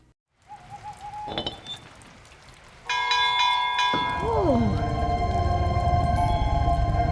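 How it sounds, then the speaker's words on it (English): A bell hung on a hook rings in Piglet's Big Game, Eeyore's dream level, with bright sustained tones and a swooping hoot-like sound over game music, loud and up close. "So you attach the bell to a hook,"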